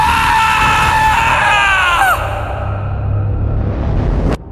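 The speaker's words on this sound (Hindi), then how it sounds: "राकेश डर से चीखता हुआ अपने सपने से जागा।" A man's loud, drawn-out scream of fear in a Hindi horror story, sliding downward and breaking off after about two seconds, followed by a low rumble and an abrupt cutoff.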